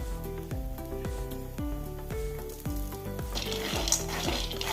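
Soybeans frying in oil in a kadai on a gas stove, a soft continuous sizzle with repeated scraping stirs, over a steady tonal hum that runs beneath the whole passage.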